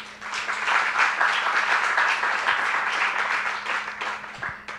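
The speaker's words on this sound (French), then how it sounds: "Vous pouvez les applaudir." Sustained applause from an audience at a workshop on AI and its economic impact at a technopole in Bidart, Basque Country; dense, steady clapping fills the whole stretch and fades slightly at the end.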